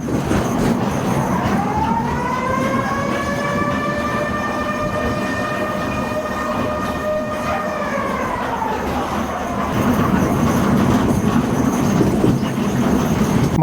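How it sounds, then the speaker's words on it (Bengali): An amusement park ride train at Magic Paradise Park in Comilla rumbles steadily along its track toward a cave. A long, loud, multi-toned horn or whistle sounds over the continuous running noise before fading away. "এই ট্রেনটা একটা রাউন্ড করে বেশ বড় একটা এরিয়া রাউন্ড করবে"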